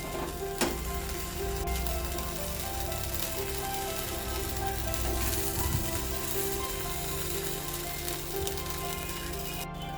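Mushroom bites sizzle steadily in a hot pan of oil as an evening snack cooks, with a constant close crackle and occasional louder pops throughout.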